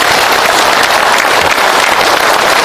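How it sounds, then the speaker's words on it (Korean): Loud, dense applause from a large audience at a lecture event in Gwangju, welcoming a chairman to the stage, a continuous, even roar of many hands clapping with no break. "큰 박수로 맞이해주시기 바랍니다"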